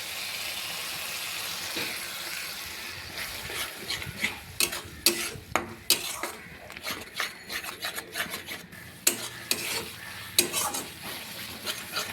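Masala with a little water and cashew paste is sautéed for a mushroom curry, a spatula scraping and stirring the pan in irregular rasping strokes over a faint sizzle, growing busier midway.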